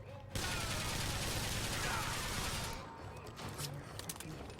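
Dense automatic gunfire in BioShock Infinite: Burial at Sea roars as a loud, continuous burst for about two and a half seconds, then drops to scattered, quieter shots and impacts.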